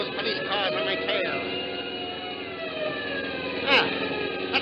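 A police car siren in an old radio drama wails steadily and loudly throughout, its rising and falling tone running alongside engine noise, with a brief sharper swell near the end.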